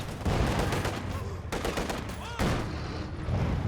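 Machine gun fire from a Company of Heroes 2 battle rattles in rapid, dense bursts split by brief pauses, loud and close within the game's combat din.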